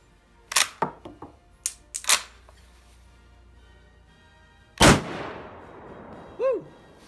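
A Mannlicher M1895/30 rifle in 8x56mmR fires several sharp, loud outdoor shots, then after a pause one heavy delayed shot from a hang fire booms and rings out into a long decaying tail.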